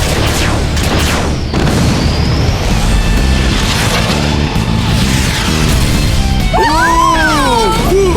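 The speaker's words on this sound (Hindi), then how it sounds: "Rocket punch, fire!" A cartoon robot car's rocket punch is launched and explodes, heard as a loud sustained roar of booms and crashing impacts amid busy animated-action effects, with a whooshing, warbling tone near the end.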